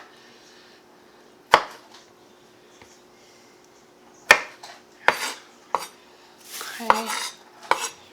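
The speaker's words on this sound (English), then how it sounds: "So that is how I am going to chop up my tomatoes." A kitchen knife chopping tomatoes on a cutting board for pico de gallo: sparse, sharp knocks, single and in small clusters, close and clear, with a brief spoken word.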